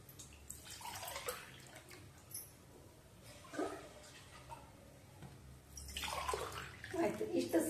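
Water pours into a container in short bursts, a splashing, gurgling fill that stops and restarts, rising louder near the end, with quiet household background between.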